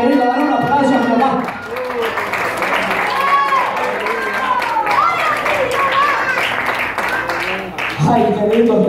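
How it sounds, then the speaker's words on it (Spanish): A church congregation claps and cheers together after a call to applaud, dense sustained applause with voices shouting throughout, loud and close, with a preacher's raised voice at the start and end. "Dar una aplauso"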